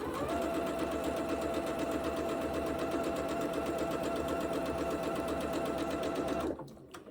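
A sewing machine stitches side borders onto quilt blocks in a rapid, continuous mechanical chatter that runs steadily up close, then stops abruptly near the end.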